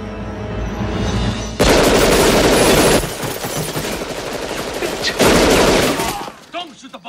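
Rapid bursts of machine-gun fire in an action movie shootout, loud and dense across the whole stretch with brief lulls between volleys and a voice shouting faintly underneath.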